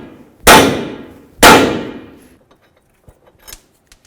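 Two loud, sharp metallic clangs about a second apart as a hammer strikes an 18mm tie rod nut on a 2006-10 Dodge Charger, each ringing off briefly, followed by a few faint taps and clicks.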